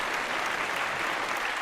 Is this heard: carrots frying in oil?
no